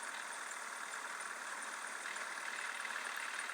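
A tractor engine in a village driving game runs at a steady idle, a faint, even hum and rumble that continues without change for a few seconds.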